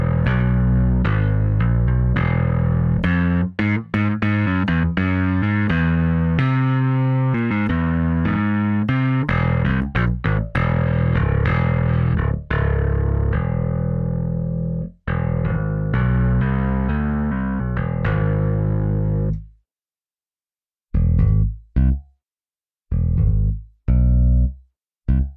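Distorted electric-style bass from the Toontrack EZbass plugin plays a busy riff of repeated notes, loud and steady, then breaks into short clipped stabs with silent gaps near the end; no voices.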